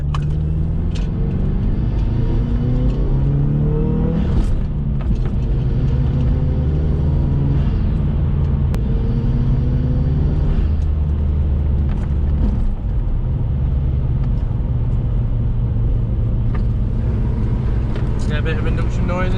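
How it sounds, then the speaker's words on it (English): A turbocharged car engine fitted with a pod-style air filter runs steadily at idle, producing a continuous loud low rumble with induction noise throughout; people talk over it. "I can hear the turbo feedback through it."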